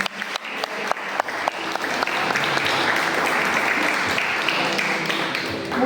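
An audience applauds at a school essay and speech contest, starting with a few scattered claps that quickly build into sustained, dense clapping from the crowd.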